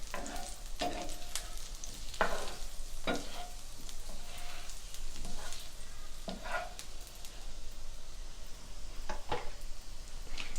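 Food frying with butter and ginger in a pan, a constant soft sizzle broken by repeated scraping and clacking strokes of a utensil as it is stirred, close and without talk.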